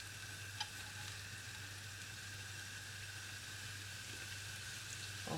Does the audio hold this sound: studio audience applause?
no